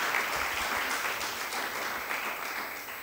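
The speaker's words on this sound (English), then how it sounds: "A big round of applause." Steady crowd applause at a school debate knockout as Machakos School is named winner, a dense, even wash of clapping from many hands with no clear voices over it.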